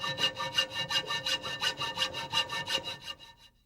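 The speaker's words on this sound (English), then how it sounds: "We used our hacksaw to cut the piece in two." A hacksaw cuts through 1-inch steel angle with about a dozen fast, even back-and-forth rasping strokes up close, scraping bright and metallic before slowing and stopping near the end.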